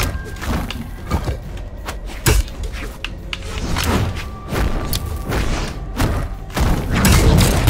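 Bombs going off during a Brawlhalla fighting-game match: repeated sharp thuds and booms scattered through a busy stretch of game effects.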